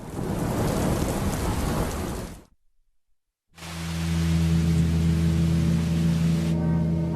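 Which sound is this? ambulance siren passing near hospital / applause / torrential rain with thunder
torrential rain with thunder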